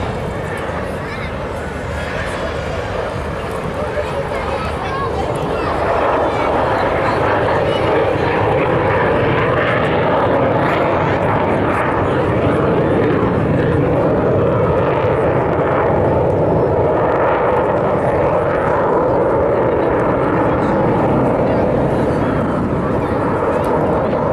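An Avro Vulcan bomber makes a flypast at the Scottish Airshow in September 2015, producing a loud, continuous jet roar that swells and holds for a long stretch, heavy and close.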